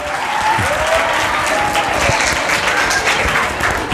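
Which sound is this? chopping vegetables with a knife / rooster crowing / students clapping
students clapping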